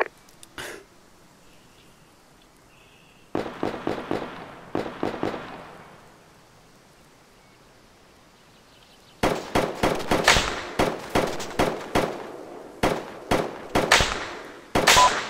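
Gunfire in the military shooter Arma 3 during a team-versus-team battle: sharp bursts of shots, a few early cracks then a long stretch of rapid, loud reports firing in clusters with brief pauses between them.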